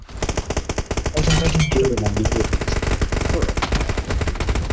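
Rapid bursts of PUBG Mobile gunfire, dense automatic shots crackling loudly over music-like tones, continuous and close.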